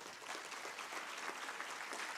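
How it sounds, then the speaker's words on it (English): Students applauding a Gaganyatri group captain at an interactive session: a faint, even wash of clapping from a large hall, continuous and distant. "one more round of big applause for our brave and globally represented Gaganyatri Group Captain Shubhanshu Shukla"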